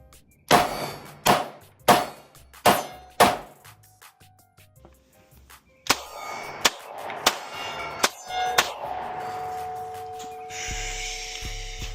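Five sharp Glock 19 Gen 6 9mm pistol shots ring out against a metal target, each with a clanging ring, evenly spaced and loud, followed by a few more quicker impacts and clinks at a range.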